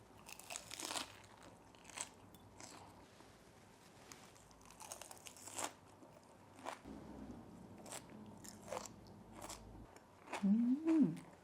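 Close, crisp crunching of bean sprouts being bitten and chewed comes in short, irregular bursts over a quiet background, with no talking.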